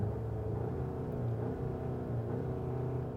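A 2021 Volkswagen Arteon R-Line's engine in sport mode gives a steady, fairly loud low rumble with a droning hum, heard alone without talk.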